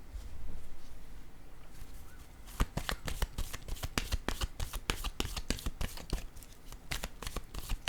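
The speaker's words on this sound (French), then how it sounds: "Je vais piger une autre carte ici." Deck of cards riffled and shuffled by hand, a quiet start followed by a fast train of crisp flutters and slaps, close and fairly soft with no voices.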